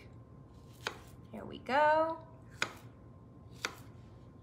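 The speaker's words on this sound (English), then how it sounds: "So just rough chopping again." Knife rough-chopping berries on a cutting board for a patriotic holiday trifle: three sharp, separate chops spaced about a second apart, with a brief spoken phrase between them.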